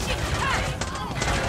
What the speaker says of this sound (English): Ow, I'm getting shot many times.